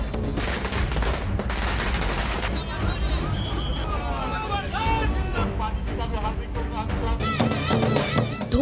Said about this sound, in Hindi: ढोल नगाड़ा, धूम धड़ाका और आतिशबाजी।